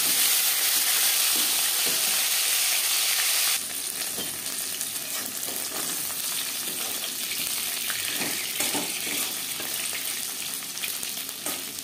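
Fish sizzles loudly and continuously in hot oil in a pan, a dense close frying hiss that drops slightly in intensity partway through, with occasional stirring crackles.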